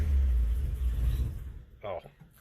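An old Nash car engine runs at idle with a low, steady rumble that weakens and sputters toward the end, with a brief louder burst near the close.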